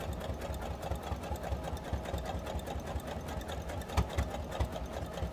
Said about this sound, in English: you're going to zigzag, and then you're going to back stitch with the zigzag